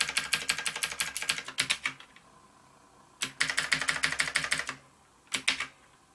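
An NKEY R3 RGB mechanical keyboard fires off a macro in fast bursts of crisp, evenly spaced key clicks, close up, with short pauses between three runs.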